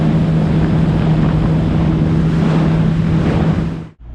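Jet ski running across open water on Lake Michigan, a loud steady engine drone with constant wind and spray rush, cutting off abruptly near the end.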